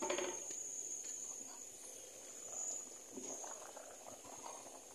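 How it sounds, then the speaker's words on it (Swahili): Water boils in a pot being readied for ugali porridge, giving a steady bubbling hiss with scattered pops and crackles, close and continuous with no one speaking. "Maji yanachemka, napunguza, naweka unga."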